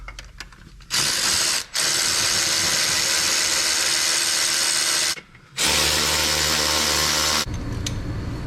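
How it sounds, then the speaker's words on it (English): Battery-powered ratchet spinning nuts on the front axle of a 2015 Volvo XC60, two long loud whirring runs with a brief pause between them and a short stop near the end, with no talking. "Battery power ratchet."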